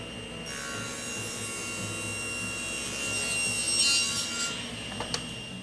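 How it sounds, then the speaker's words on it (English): A saw blade cutting small wooden wedges for vise shims, a steady rasping cut running the whole length with a louder burst near the end, close and without talk. "push it through the saw blade. I can cut dozens of these"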